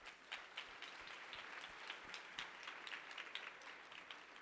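Steady, faint applause from a pageant audience at the Miss Sam Houston 2019 competition, a continuous wash of distant clapping for the tabulators and judges with no talk over it.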